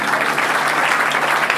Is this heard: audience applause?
yes